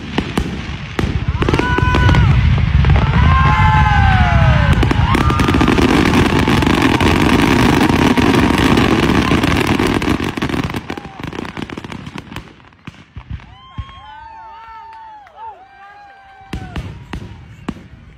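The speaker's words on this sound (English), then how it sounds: "When the fireworks mess up and accidentally shoot off all at once." A fireworks display misfiring so every shell launches at once: a dense roar of overlapping bangs, whistles and crackles that runs loud for about ten seconds, then thins into scattered pops and squealing whistles as it dies away.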